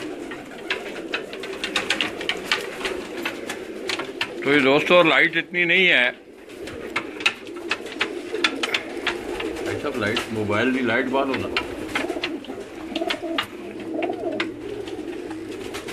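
Black-faced breed pigeons coo in a pair of loud, close bursts, with softer cooing afterward, while someone talks throughout over steady background noise.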